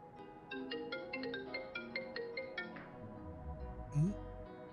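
A mobile phone rings indoors with a bright, melodic ringtone: a repeating pattern of chiming tones for about three seconds that then cuts off, followed by a short vocal sound.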